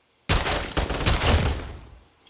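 A burst of pistol gunshots from the Roblox game, a dense run of sharp cracks over about a second and a half that fades out, loud and alone with no talking.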